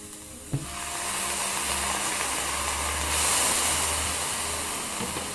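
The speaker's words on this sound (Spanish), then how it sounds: "Dejamos hasta que se evapore bien el vino y el vinagre." White wine and white vinegar with onion simmering in a pan, a steady soft bubbling hiss that continues throughout with no talking.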